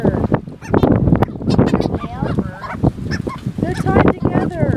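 Seagulls on a beach calling loudly and repeatedly, harsh overlapping squawks and yelping cries close by, with some voices mixed in among the calls.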